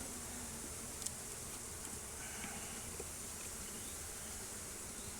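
Honeybees humming during an inspection of a captured swarm hive in Biloxi, Mississippi, heard as a faint, steady buzz from many insects with an occasional small knock, and no talking.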